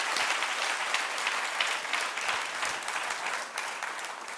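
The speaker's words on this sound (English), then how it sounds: "I want a huge round of applause for Peyush" A conference audience applauds Peyush at a Tech HR India closing session, a large crowd clapping loudly and continuously, the dense patter holding steady before easing slightly near the end.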